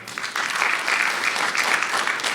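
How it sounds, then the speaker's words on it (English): A crowd at a community meeting on an entertainment and sports arena claps steadily for a couple of seconds, the dense patter of many hands holding at a fairly loud, even level. "please give him a round of applause as well"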